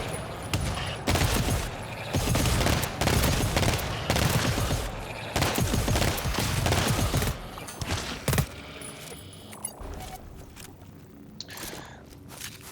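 Dense rapid gunfire from the co-op shooter GTFO, bursts layered with mechanical clatter and footsteps for about eight seconds, then thinning to scattered shots and quieter ambience.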